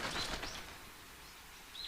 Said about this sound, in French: il prit peur et s'envola vers le ciel